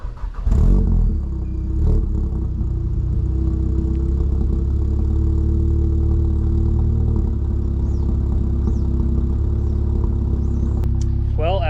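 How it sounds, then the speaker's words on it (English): A tuned Stage 2 MK7 Volkswagen GTI engine cranks from cold and catches, then settles into a steady, low idle that rumbles on for several seconds, with a brief sharper noise near the end. "I'm gonna give you guys a cold start."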